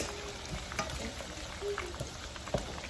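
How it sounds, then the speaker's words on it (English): A pot of sauce for Haitian fried chicken simmers and bubbles quietly, a soft continuous sizzle with a few faint pops and clinks near the end. "so you guys can see as it's simmering"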